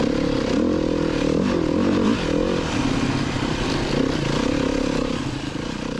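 A Beta 390 RR-S four-stroke dirt bike is ridden hard on a wooded trail, its engine loud and close, throttle rising and falling with shifting revs and a brief dip in the middle.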